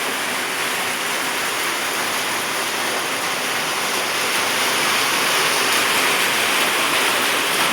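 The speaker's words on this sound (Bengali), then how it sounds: "তুমি দেখো কতটা বৃষ্টি হচ্ছে" Heavy rain pours during a downpour in Assam, a dense, even roar of water that swells slightly toward the end, loud and unbroken with no voices.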